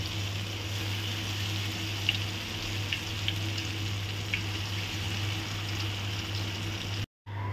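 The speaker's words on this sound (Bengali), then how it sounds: "পরিমাণ মতো তেল গরম করে আমরা পাকোড়াগুলো ছেড়ে দিব।" Cabbage pakoras frying in hot oil, a steady crackling sizzle with occasional sharper pops, even and fairly quiet throughout, broken by a brief dropout near the end.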